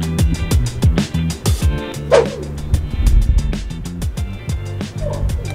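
A dog barks repeatedly in short yips with whimpering between, loud and close indoors, a busy run of sharp calls with a car-like rumble underneath.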